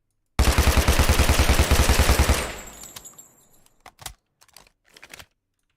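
A P90 fires in rapid full-auto in a Minecraft Create mod game, a fast, even, loud burst lasting about two seconds and fading out, followed by a few scattered sharp clicks.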